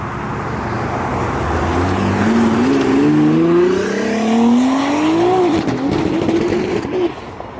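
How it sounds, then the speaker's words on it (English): A garage-built 1600 horsepower GTR pulls out of a car meet, its engine note climbing in a long rising rev that swells and settles over several seconds, loud and close amid background crowd and traffic noise. "We got the homie Robert rolling out in his garage-built 1600 horsepower GTR."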